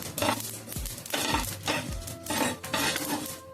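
Dry spices roast in a pan while a spoon scrapes and stirs them, rhythmic gritty rasping strokes about every half second, close and fairly loud, no voices.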